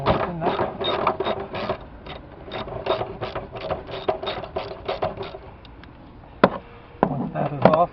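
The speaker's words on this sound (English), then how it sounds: "we're going to start with the 8mm socket. And you just want to loosen that." A ratchet fitted with an 8mm socket clicks in a rapid, even run on a 2009 Chevrolet Malibu, then gives a few scattered clicks and knocks, close up with no talk.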